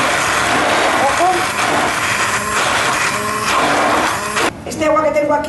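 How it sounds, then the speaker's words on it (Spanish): A blender whirs steadily at full power for several seconds, blending meatball sauce in its jug, its motor note shifting as the contents churn, then briefly dips and revs again. "la vamos al vaso de la batidora"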